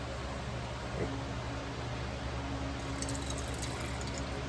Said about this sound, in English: I pour it a little bit just so that way it'd be easier to keep the it from spilling